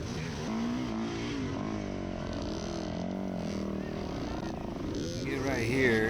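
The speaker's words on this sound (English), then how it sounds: "I let out the clutch, and the bike keeps bogging down, like the RPMs are bogging down" An enduro dirt bike engine at a hard enduro race bogs down after the clutch is let out, its low, labouring drone holding steady and close, then revving slightly at the end, under continuous talking.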